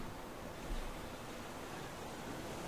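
Player character swimming through open water in the survival game Raft, a steady broadband wash of waves and sea noise with a slight swell near the start, no voices.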